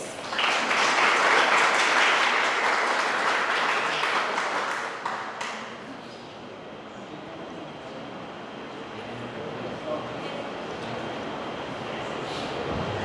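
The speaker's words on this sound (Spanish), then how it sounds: "Así que recibimos con un fuerte aplauso a José Rodolfo Pérez." Audience applause welcoming a speaker at a talk, a dense wash of clapping that is loudest at first and then fades to a quieter patter.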